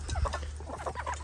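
Hens on a ranch cluck in short, scattered bursts close by while feeding on seeds, with a low steady hum underneath and no talking.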